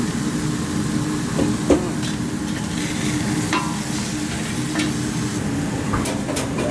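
Masala chicken sauce bubbling and sizzling in a pan, a steady broad frying hiss with occasional soft stirring scrapes and pops, close and continuous with no talking.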